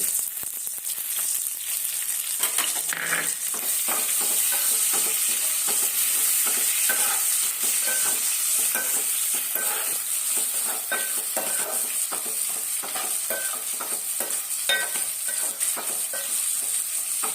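Steady, loud sizzling of sliced onions frying in oil, with frequent scraping and stirring clicks throughout; no voices.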